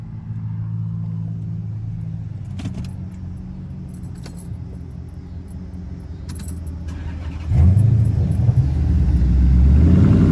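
A Dodge Charger R/T idles with some jingling keys, then suddenly roars as it launches hard from a stop, the revs climbing loudly toward the end.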